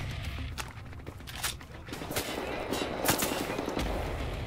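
Rapid automatic shotgun blasts in the first-person shooter Wolfenstein: The New Order, several sharp bursts spaced irregularly over a busy game background of clatter and footsteps.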